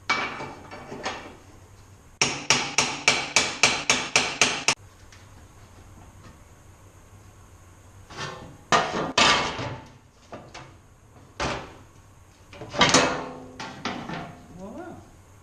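Sharp metallic hammer blows on Ford Escort RS Turbo rear floor pan sheet steel in a garage, a fast even burst of about ten strikes, then scattered single and clustered hits with quieter gaps between.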